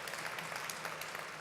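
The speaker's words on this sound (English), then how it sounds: "that is worth a round of applause" Steady, faint applause from a conference audience at a wind-power industry event, a short even wash of clapping with no talk over it.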